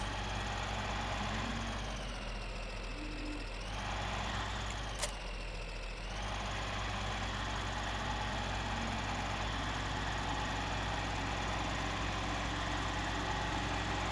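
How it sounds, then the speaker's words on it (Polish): A tractor engine idles steadily in Farming Simulator 15, a continuous low rumbling drone that holds throughout with a brief shift in tone partway, heard alone without talk. "Właśnie dźwięk tego traktora jest również fajny"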